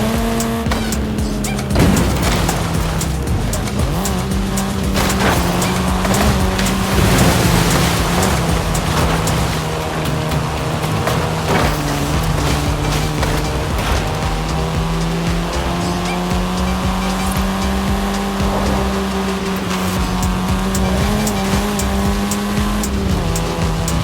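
Car racing in Forza Horizon 5: a continuous loud engine roar with shifting pitch and repeated tire squeals and skids throughout, with no break.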